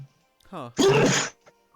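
A person sneezes once, loud and close, between short vocal sounds and brief talk during a Super Smash Bros. 3DS stream.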